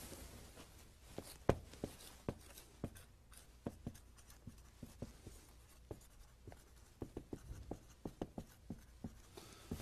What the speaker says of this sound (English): I'd like you to write down the answers.